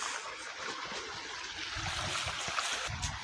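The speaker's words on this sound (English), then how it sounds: "And now we are finally by the river" A river flows with a steady rushing, bubbling wash of water, close by and continuous, alone without talk.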